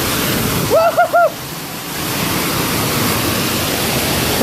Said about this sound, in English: Nice little waterfall walkway.